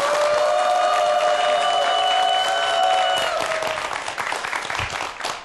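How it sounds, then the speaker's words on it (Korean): A studio audience applauds as a guest is introduced on a Korean science talk show: steady, dense clapping that holds strongly, then thins and fades toward the end, with a faint tonal backing underneath. "큰 박수 부탁드립니다."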